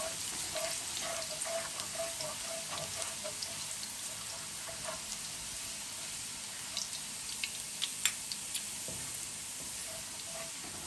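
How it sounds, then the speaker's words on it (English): Chopped garlic frying in hot oil in a pan, a steady close hiss of dense sizzling crackle with scattered louder pops, continuous and without talk. "I'm going to add in my garlic, and I'm gonna allow it to fry a little bit in the oil"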